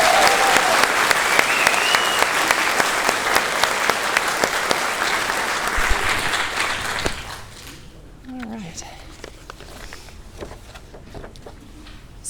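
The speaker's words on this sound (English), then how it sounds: "Let's give them all a big round of applause" A graduation audience at a York River Academy ceremony gives a long, loud round of applause with many hands clapping densely, then it fades to scattered claps and quieter room sounds with some faint talk.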